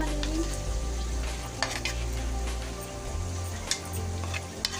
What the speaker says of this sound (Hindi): आलू को मैंने भून लिया है कीमे के साथ। अब मैं टमाटर शामिल करूंगी